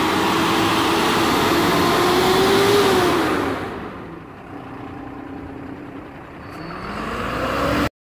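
A Tata BS6 truck's diesel engine runs loud and close, a steady droning rumble that dips briefly in pitch and level before building back up, then cuts off abruptly.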